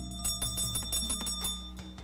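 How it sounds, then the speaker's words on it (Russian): A small bell is rung repeatedly at close range during a home ritual meant to ward off evil spirits. Quick struck jingles sit over a sustained, shimmering ringing tone. "Звон колокольчика отпугнет злых духов"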